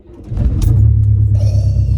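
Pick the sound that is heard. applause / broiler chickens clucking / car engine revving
car engine revving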